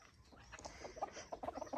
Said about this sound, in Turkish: Bunlar da horozlar.